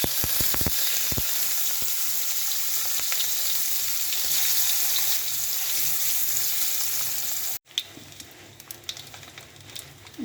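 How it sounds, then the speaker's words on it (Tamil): Anchovies fry in hot oil with a loud, steady crackling sizzle that cuts out abruptly near the end, leaving a quieter hiss with scattered clinks. "நெத்திலியை பொரிச்சுக்க போகிறேன்."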